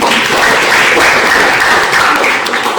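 Students in a classroom clap together after answering a science question, a brief, loud, continuous patter of many hands close by.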